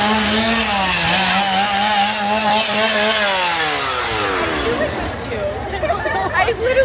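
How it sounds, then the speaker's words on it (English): Chainsaw engines roar and rev at a Halloween Horror Nights haunted house, their pitch sliding up and down as they drop and rise, loud and close over a babble of crowd voices. "There's thousands of chainsaws here."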